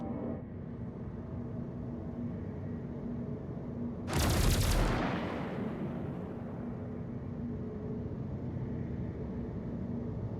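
Remote turret on a MISC Hull C ship in Star Citizen lets off one short, loud burst of gunfire partway through, standing out over a steady low engine hum.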